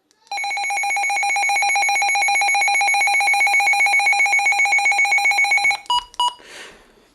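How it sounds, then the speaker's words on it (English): A Midland HH54VP2 weather radio sounds its alert: a loud, piercing, rapidly pulsing electronic tone for several seconds, then two short chirps before falling silent. "it has the same alert sound as the WR100"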